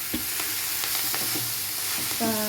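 Ponnanganni greens for chutney sautéing in a pan: a close, steady sizzle broken by quick spatula scrapes and taps against the metal, with no talking.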